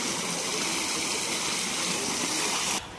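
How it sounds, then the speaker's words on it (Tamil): Water gushes forcefully into a farm well, a loud, continuous hissing rush that runs steadily close to the microphone before cutting down abruptly near the end. "தண்ணி எவ்வளோ ஃபோர்ஸாக வருதுன்னு பாருங்கள்."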